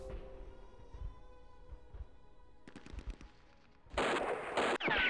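Gunfire from the 1999 wargame East Front 2 comes as a few faint shots early, then louder rapid bursts and a dense crackling volley near the end.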